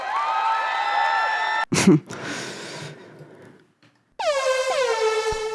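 Loud blaring air horn blasts, first a sustained bright honk, then a short burst and noisy hiss, ending with another long horn blast sliding downward.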